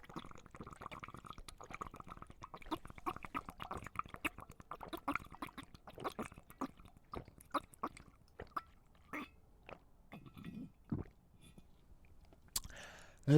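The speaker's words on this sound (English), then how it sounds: "Want to listen to me and watch me drink water?" A person drinks water close up, with repeated gulps, small slurps and wet mouth clicks in an irregular rhythm, quiet but near, with no talking.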